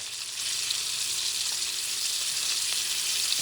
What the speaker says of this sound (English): And I'm going to let them saute